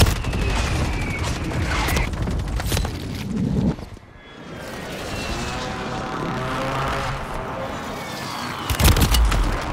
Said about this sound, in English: Friendly position precision airstrike inbound.